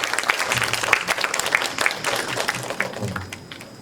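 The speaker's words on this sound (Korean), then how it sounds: "격려의 박수 좀 부탁드리겠습니다." Parents at a school curriculum briefing give a round of encouraging applause, a dense patter of clapping that stays fairly even before tapering slightly at the end.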